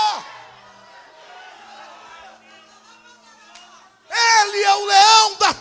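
A church congregation shouts and cheers as a loud burst of many voices after a quieter stretch of crowd murmur and scattered voices, the swell rising abruptly near the end.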